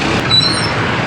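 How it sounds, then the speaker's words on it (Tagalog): Road traffic in Alabang rumbles steadily nearby, a continuous wash of engine and tyre noise with faint high squeals. "Traffic still"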